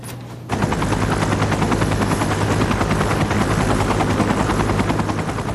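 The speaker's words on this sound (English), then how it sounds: "Greg was transported by life flight to University Hospital in a deep coma." A medical life flight helicopter is heard up close, its rotor beating in a loud, steady rapid thump that starts abruptly after a brief pause and holds throughout, with no talking.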